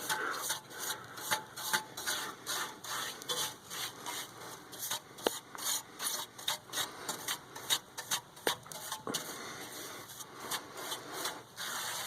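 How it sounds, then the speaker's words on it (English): Stiff brush scrubbing ash and soot off metal parts of a pellet stove during cleaning, a close, steady run of rasping strokes with sharp scrapes and knocks throughout, no talking. "So, the brush. Here's the brush. And I'm going to try to get some of that to come off."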